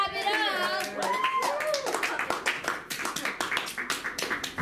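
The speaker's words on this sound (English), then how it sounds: "Let's clap it up" Audience at a high school open mic claps in a lively burst following excited voices and shouts, the claps becoming distinct and rhythmic as the cheering dies down.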